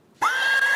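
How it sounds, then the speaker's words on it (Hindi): A horse gives a single high, sustained whinny that starts abruptly after a short silence and holds loud and close to the end. "घोड़ा है ये।"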